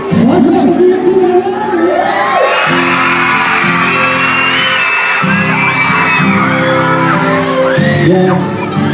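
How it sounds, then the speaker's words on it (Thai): A concert crowd at a Lao-Thai pop show cheers, whoops and yells loudly and continuously, high excited shouts rising and falling in waves close to the listener. "ขอเสียงเชียร์ที่เลย"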